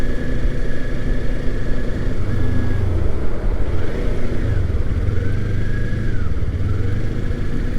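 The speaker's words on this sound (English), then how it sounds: "I'm working on this downshifting thing instead of riding the clutch." A Kawasaki Ninja 400 ridden on the road, engine note droning loud and close with wind roar, pitch dropping and rising in steps as the rider downshifts through gears; no talking.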